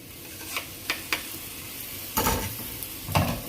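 Water-softened dried pollock stir-fried in sesame oil in a pot, with a few light utensil taps and then louder bursts of sizzle as the fish is tossed, close by and without voices.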